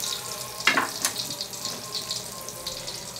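A pan sizzles steadily as something fries before onion and chili go in, with a brief clatter near the start and continuous hissing throughout.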